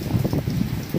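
Steady rain falls outdoors as a continuous, moderately loud wash of dense patter with a low rumble underneath, and no voices.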